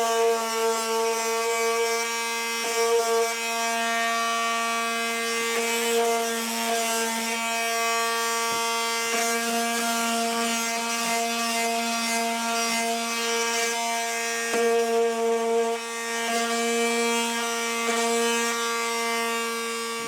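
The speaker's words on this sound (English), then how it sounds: "I use a palm sander" A palm sander flattens the seam line on a studio-scale Alien model body, its motor holding a steady humming whine over a continuous close rubbing rasp with small shifts in pressure.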